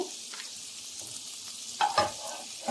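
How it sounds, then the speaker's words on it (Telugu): Cashews and almonds fry in melted butter, making a soft continuous sizzle with a few louder bursts near the end as they are stirred, close up with no talking. "కాజు బాదం దీంట్లో వేయించుకుందాము బటర్లో"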